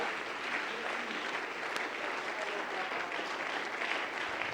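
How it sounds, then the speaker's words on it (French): Applause from a church congregation fills the room, an even, continuous wash of many hands clapping at a steady level, with scattered voices faintly underneath. "Nous l'acclamons très fort."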